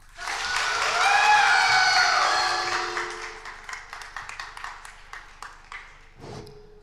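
At a live singing event on a TV music show, a sustained tonal musical passage gives way to scattered, moderately loud audience clapping that thins out, with a brief extra burst near the end.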